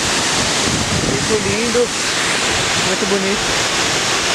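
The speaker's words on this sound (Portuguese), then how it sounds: "Chegamos aqui agora na cachoeira maior." Steady broadband rushing of a waterfall fills the scene, loud and constant, with a person speaking briefly over it.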